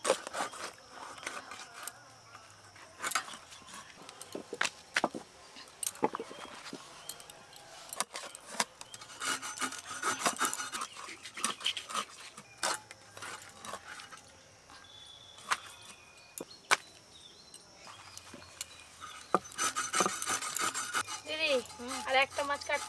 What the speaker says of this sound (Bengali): আর একটা মাছ কাটতে বাকি আছে, আমি কাটছি